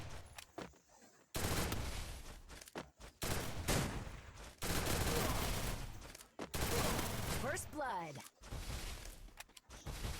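Rapid gunfire bursts and single shots ring out during a one-versus-one video game shootout round, loud and sharp in clustered volleys with brief gaps, and a commentator talks over them.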